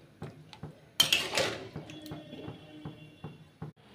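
Potatoes with a pinch of salt are stirred in a pot for aloo dum, a spoon clinking and scraping against the metal in sparse, quiet knocks over a faint hum.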